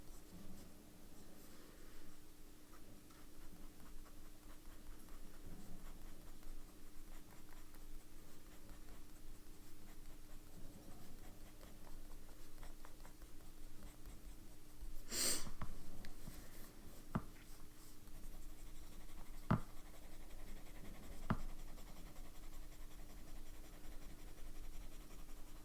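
Medium-nib fountain pen scratching faintly across paper in soft, intermittent strokes, quiet and close, with a few sharper taps and rustles along the way.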